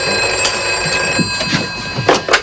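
An old-style telephone bell ringing indoors in a 1982 drama, loud and close, with a steady metallic ring that sounds in short repeated bursts against a constant hum.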